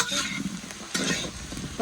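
Ghee poured over biryani in a pot, a soft sizzle with stirring and scraping noises for a couple of seconds at close range.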